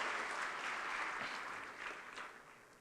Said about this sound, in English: You should have a round of applause for yourselves